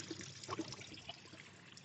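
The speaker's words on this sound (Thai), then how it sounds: "เดินมาอยู่ใกล้ ๆน้ำตกในบ้าน ลองฟัง" Faint, continuous trickling water runs softly in the background, with a few tiny drips and splashes standing out.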